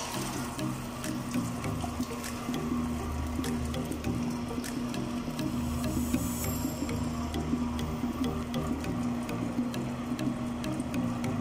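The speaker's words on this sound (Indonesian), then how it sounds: "gumagamit na ako ng mixer" An electric mixer runs steadily while a large batch of classic sauce is made, giving a continuous, even whirring drone with a low hum throughout and no talking.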